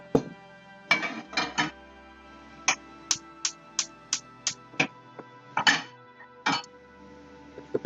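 Metal pots and pans clank and knock as someone rummages through kitchen cookware for a small saucepan, a series of sharp, separate clatters at an uneven rhythm, close and fairly quiet with no talking.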